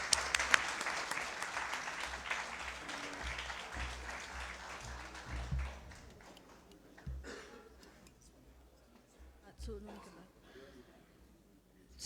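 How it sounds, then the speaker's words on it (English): Applause from a conference audience for a poster competition winner, loudest at the start and fading to scattered clapping, with a speaker talking over it. "Please give her a big hand applause."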